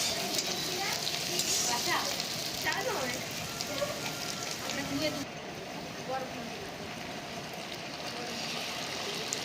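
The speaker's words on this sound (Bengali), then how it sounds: "পেঁয়াজটাকেও আমরা দিয়ে আর লাল লাল করে খুব ভালো করে ভাজা করে নেবো" Onions fry in a pan for paneer chilli, making a steady, close sizzle and crackle like rain on a surface that fills the whole stretch without pause.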